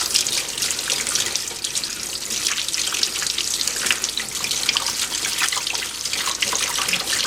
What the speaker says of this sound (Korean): 이거는 이제 문대 가지고 깨끗하게 이렇게 씻어 줍니다